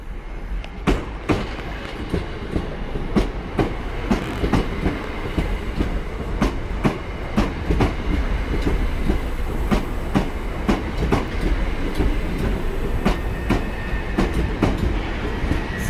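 A Southern Railway Class 377 electric train rumbles steadily at Redhill Station, with rhythmic clicking of wheels over rail joints, close and loud, no voices.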